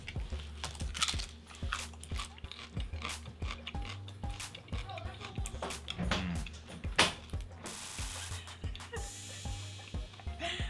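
Crunchy raw cabbage being bitten and chewed up close, with a steady run of crisp crunches and mouth sounds during a fruit-versus-vegetable tasting.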